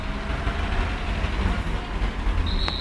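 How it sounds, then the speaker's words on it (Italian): Heavy road traffic through a busy town near a railway crossing on market day, a dense continuous rumble of engines with a short high beep or horn toward the end. "Traffico impazzito da qualunque direzione."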